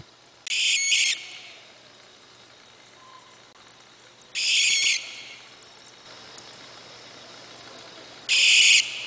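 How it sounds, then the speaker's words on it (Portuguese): Three harsh, hissing screeches of a barn owl (Tyto furcata), each about half a second to a second long, spaced several seconds apart and loud against a quiet background. "o bicho do último episódio foi uma suindara, ou coruja das torres, ou coruja da igreja"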